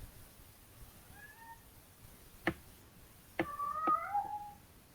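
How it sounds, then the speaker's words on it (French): A pet cat meows indoors, a few short plaintive cries followed by a louder drawn-out, wavering meow near the end, close and clear against a quiet room. "Il y a quelque chose à dire, ton chat?"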